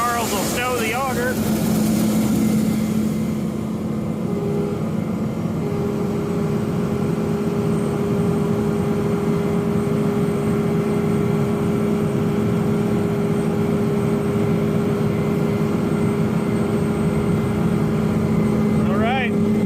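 A New Holland CR920 combine harvester engine runs at a steady, close, constant drone throughout, with someone talking over it.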